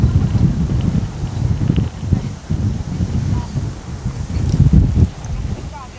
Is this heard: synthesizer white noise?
no